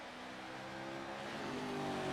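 Pro-2 Lite truck engines drone in iRacing at Daytona Rallycross, a steady rising roar that swells slightly in pitch and loudness, continuous and close with no talk.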